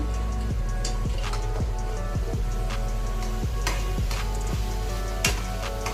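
Tomato and onion masala sizzles steadily in a pan, with a constant frying hiss under sharp, repeated ticks and taps from stirring spread across the whole span.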